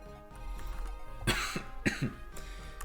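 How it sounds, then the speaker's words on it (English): A person gives several sharp coughs in quick succession, close and fairly loud, with some throat clearing. "Sorry for the cough."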